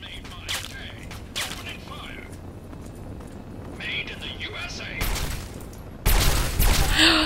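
Laser pistol fire in Fallout 3 comes as a series of sharp zapping bursts, ending with a louder dense volley, while a voice talks intermittently.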